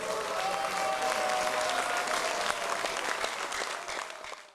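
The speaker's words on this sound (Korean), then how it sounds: "의원님들의 큰 박수와 환호로 시작하겠습니다" Lawmakers at a 2022 ruling-party National Assembly members' retreat applaud and cheer together, a dense wash of clapping that holds steady and then tapers off toward the end, with a faint tone running beneath.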